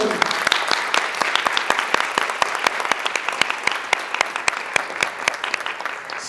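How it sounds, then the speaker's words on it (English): A spelling bee audience claps steadily in dense, even applause, loud and close, with no voices standing out. "you all deserve a very big round of applause"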